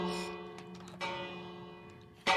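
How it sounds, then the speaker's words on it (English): Bells ring in Minecraft inside a redstone factory build, with a few resonant tolls that strike and slowly decay at moderate volume and no talking. "Do all the bells sound?"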